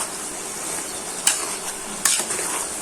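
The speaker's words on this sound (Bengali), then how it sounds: "এখন নেড়ে ভালো করে মশলাটা কষিয়ে নিব।" Chili and turmeric spice paste sizzles in oil in a pan while being stirred, a steady soft frying hiss with two sharp scraping strokes of the spoon.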